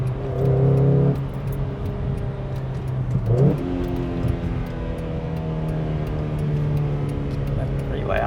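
A Honda Accord Euro R with its intake resonator removed idles and revs nearby, a steady engine drone with a sharp rev swell midway, while people talk over it.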